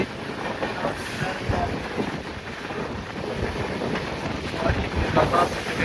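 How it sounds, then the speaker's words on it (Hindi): A Temple Mail train rumbles steadily as it departs Faridabad railway station, with a continuous low roar and wind buffeting the microphone, no talking. "गाड़ी ने डिपार्चर ले लिया हमारे फरीदाबाद रेलवे स्टेशन से"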